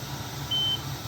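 A single steady high-pitched alarm beep sounds from a Haas UMC 350 EDU CNC machining center during a tool probe measurement, lasting about a quarter second over a low machine hum.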